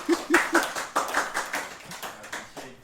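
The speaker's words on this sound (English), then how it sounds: "So clap if you know." An audience claps in a short burst of scattered, distinct hand claps, close and moderately loud, thinning out toward the end.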